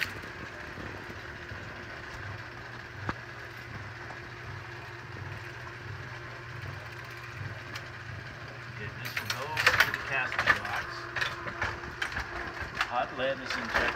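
A Linotype typesetting machine runs with a steady mechanical hum and low rhythmic clatter, then louder clanking and rattling of falling parts joins in, with voices talking over it.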